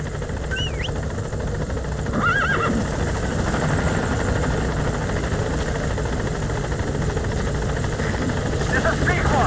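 A helicopter in the video game Metal Gear Solid V approaches the landing zone, its rotor chop a loud, continuous thrum, with a horse whinnying faintly in between.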